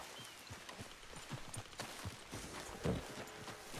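Horse hooves clip-clopping in Red Dead Redemption 2, a faint, uneven series of soft hoof thuds close by, with one louder knock near the end and no voices.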